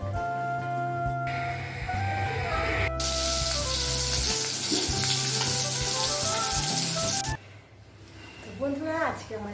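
Lentil dal brought to a boil and tempered in a pan at home, a broad steady sizzle and spitting hiss filling the clip, with a voice talking over it and a brief quieter dip near the end.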